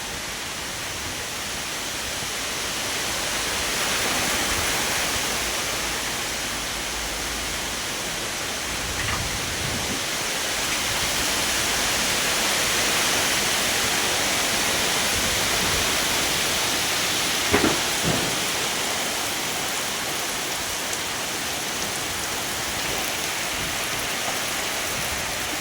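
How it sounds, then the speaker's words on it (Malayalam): Heavy rain with strong, unexpected wind sweeping through at nightfall, a steady broadband roar of downpour that swells and eases over time, with a couple of sharper knocks midway and no voices. "പ്രതീക്ഷിക്കാത്ത കാറ്റും മഴയാണ് കേട്ടോ."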